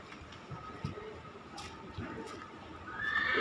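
A warhorse neighs in the stable at Sachkhand Sri Hazur Sahib, its whinny swelling loud near the end over a steady low background rumble.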